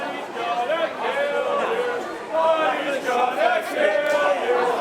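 Wrestling crowd of MCW fans at End Game 2024: a steady, close murmur of many voices with overlapping chatter and a brief swell partway through, with no single clear words.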